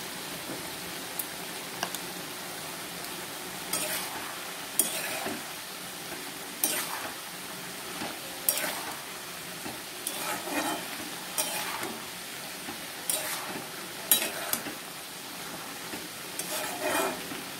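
Mixed vegetables for a vegetarian ghonto sautéing with cumin powder in a pan, a continuous soft sizzle with regular scraping stirs of a spatula every second or two, close and alone.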